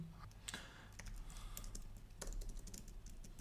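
Rapid typing on a computer keyboard while a Laravel database query is written, with dense clusters of key clicks and occasional louder taps over a low background hum.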